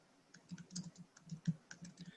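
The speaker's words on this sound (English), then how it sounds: "Obviously, I'm typing very fast." Fast typing on a computer keyboard, a quick, uneven run of close, light key clicks in a quiet room with no talking.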